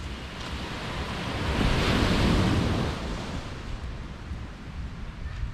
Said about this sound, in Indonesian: Pantai yang sangat peaceful.